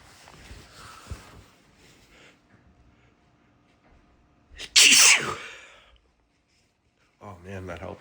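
A person lets out a single loud, explosive sneeze close to the microphone after quiet sniffling, followed by a pause and then talking.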